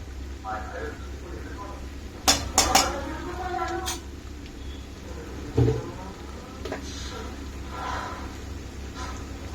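Chicken curry with spices being stirred in a pan, a few sharp metallic clanks and scrapes of a spoon against the pan, with a voice talking quietly in between.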